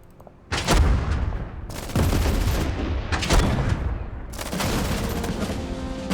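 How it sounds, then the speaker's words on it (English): A tank fires on an enemy unit in the World War II strategy game Total Tank Generals during the 1943 Battle of Troina, with four heavy booming blasts whose rumbling tails run into each other, loud and close. "this tank I know will be able to shoot him"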